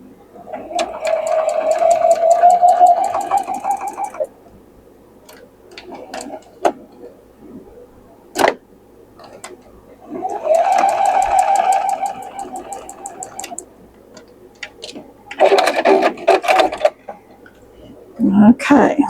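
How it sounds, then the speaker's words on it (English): A sewing machine stitches a quilt block corner to corner in two steady bursts of whirring needle clatter, a few seconds each, with quiet gaps, small handling clicks and some brief talk. "sew it from here to here, bottom corner to top corner"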